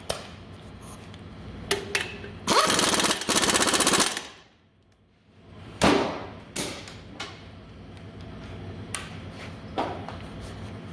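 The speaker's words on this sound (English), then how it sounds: "Let me try torquing that one more time with the bigger impact." An air impact wrench torques a lug nut, firing in hard rattling bursts: short hits, then a sustained loud hammering run, a pause, another burst and scattered lighter taps, all close up with no talk.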